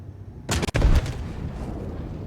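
Two heavy ballistic gunshots are fired at an armored target in a video game. They land as loud booming blasts a fraction of a second apart, then fade into a lingering rumble.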